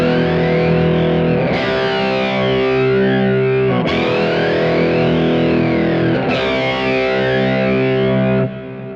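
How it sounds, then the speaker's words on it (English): An electric guitar played through a Kemper Profiler with flanger, two-tap delay and natural reverb gives sustained distorted chords with sweeping jet-like swirls, restruck three times before fading near the end. "So this is only the flanger with the 2-tap delay and natural reverb"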